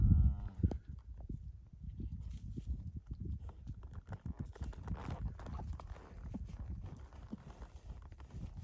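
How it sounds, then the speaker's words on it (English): Neighbour's cows moving about on a farm, faint soft hoof thuds and shuffling steps at a distance, quiet and irregular. "Some of the neighbor cows here on this place."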